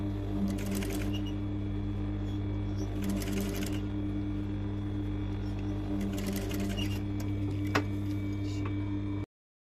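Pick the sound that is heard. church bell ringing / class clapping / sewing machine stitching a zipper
sewing machine stitching a zipper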